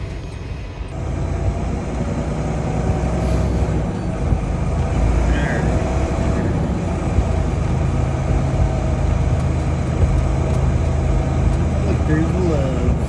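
A semi truck drives down the road, its engine rumbling steadily from inside the cab with constant road and wind noise, a continuous loud drone throughout.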